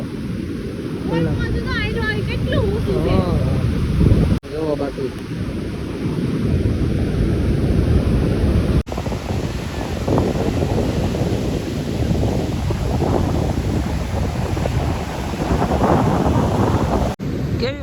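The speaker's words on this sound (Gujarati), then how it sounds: "આમાં અવાજનો થોડો પ્રોબ્લેમ રહે કેમ પાણીનો અવાજ જ આવે છે" Sea waves and surf roaring loudly on the beach at Diu, with heavy wind buffeting the microphone throughout as a person talks over the water noise.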